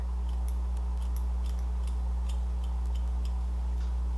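Scissors snipping through long, thin hair while cutting layers, a series of short crisp snips at an irregular rhythm over a steady low hum, close and fairly quiet.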